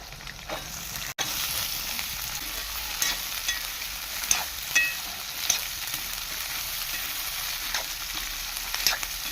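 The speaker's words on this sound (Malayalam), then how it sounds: "ഒരു അഞ്ച് മിനിറ്റോളം നമുക്ക് ഈ വെളുത്തുള്ളി ഒന്ന് നല്ലോണം ഈ വെളിച്ചെണ്ണയിലൊന്ന് ഇളക്കി എടുക്കാം" Chopped garlic with ginger and green chili is stirred in hot coconut oil for a garlic pickle, giving a steady bright sizzle with soft scraping stirs and occasional louder spoon knocks, close and continuous without talk.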